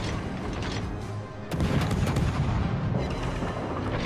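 Cruiser main guns fire in World of Warships Legends, a heavy close boom that cuts in partway through and rolls into a sustained rumble.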